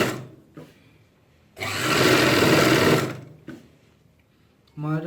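A sewing machine stitches ladies' pant fabric in short bursts: two brief runs, then a loud steady whir of about a second and a half, and another short burst. Someone speaks between the runs.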